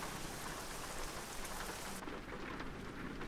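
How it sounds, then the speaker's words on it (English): Steady rain pours down in the American Truck Simulator game, a dense, continuous hiss of drops that stays even and fairly loud throughout, with no voices. "If you rest, it's raining."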